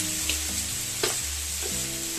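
Fried noodles being stirred for fideuá in a pan, with a steady sizzle and a few soft scraping strokes of the utensil, close and alone.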